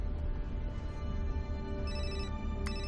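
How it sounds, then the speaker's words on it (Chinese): A telephone rings in a Chinese crime drama film, an electronic ringtone trilling continuously and fairly loud for a few seconds against a low rumbling background, with no one speaking. "电话"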